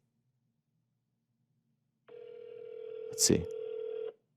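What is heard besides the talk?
telephone ringing on an outgoing call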